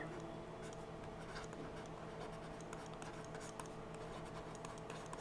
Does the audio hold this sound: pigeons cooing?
no